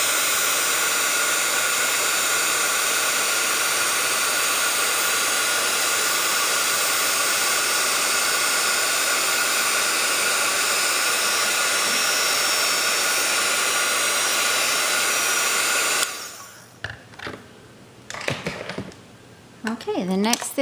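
A heat tool heat-sets ink on a handmade Christmas card, blowing a loud, steady whooshing roar for about sixteen seconds before cutting off abruptly. A few faint handling clicks and rustles follow.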